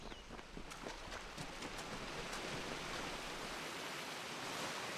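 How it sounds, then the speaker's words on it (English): Waterfall in the fantasy video game Kingdoms of Amalur: Re-Reckoning, a steady broad rushing roar of falling water, continuous and fairly faint, with no voices. "Waterfall. Could there be a secret behind it?"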